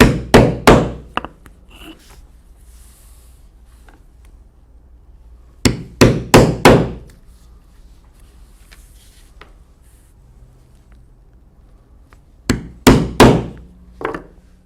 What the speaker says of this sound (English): now I will punch 4 holes